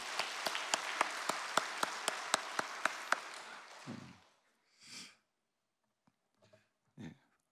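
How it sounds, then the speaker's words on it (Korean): A church congregation claps together in a steady, sharp rhythm for about four seconds, then the applause fades into a few quiet breaths and rustles. "우리 장로님들께 감사의 박수 한번 올려드릴까요?"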